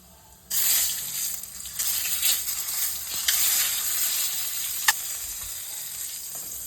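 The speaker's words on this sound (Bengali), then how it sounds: "এই ডিমটা নুন হলুদ দিয়ে ভেজে নেব" An egg sizzles in hot oil with salt and turmeric, a steady close crackle starting abruptly as it hits the pan, with a few sharp pops over the continuous hiss.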